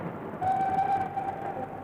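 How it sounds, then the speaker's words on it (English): The Elizabethan, the 9:30 non-stop train to Edinburgh, waits at a station platform with a steady low rumble and a sustained whistle-like tone in the middle, fairly loud. "The Elizabethan, the 9:30 non-stop to Edinburgh at platform 5, is about to leave."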